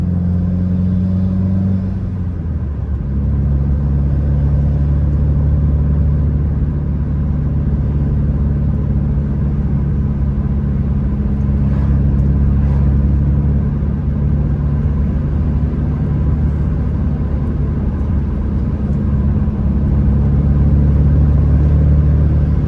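A Subaru WRX engine with IAG Tuff block, aftermarket intake, downpipe and equal-length headers idles with a deep, throaty exhaust rumble, revs up briefly, then settles into a loud, steady burble.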